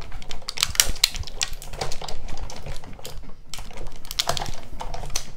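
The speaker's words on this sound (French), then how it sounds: "je vais découper avec ma Big Shot" A Big Shot die-cutting machine cranks an alcohol ink sheet through its plates, giving a busy run of close clicking, ratcheting and clattering mechanical noise that rises and falls throughout, with no talking.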